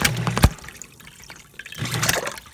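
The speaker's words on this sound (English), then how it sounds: "What you do is you turn the dishwasher back on." A Bosch dishwasher being restarted during an overflow repair gives short bursts of splashing, gushing water with sharp thumps in between. The sound is close and uneven.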